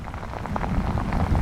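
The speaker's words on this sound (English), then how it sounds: "It is pouring down rain right now, and it's too much rain and too much wind to try to make a run for it." Heavy rain pours down during a windy coastal thunderstorm with flash flooding, a dense, steady roar of drops close by with no speech.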